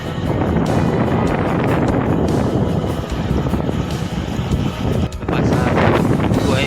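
Strong wind near Damodar Kund at Bhavnath Taleti buffets the microphone in a loud, continuous low rumble, with brief dips and gusts throughout.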